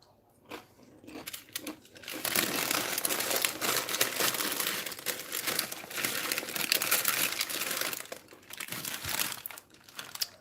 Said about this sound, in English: It's a rosin paper.